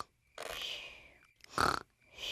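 George, the cartoon piglet, snores in his sleep. Two long, rough snorting breaths sound close and loud, separated by short silences, with a thin high tone in the background.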